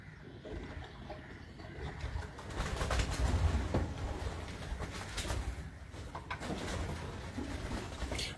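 Low, throaty pigeon cooing rumbles on and off over a continuous hissing background, fairly close, with no one speaking.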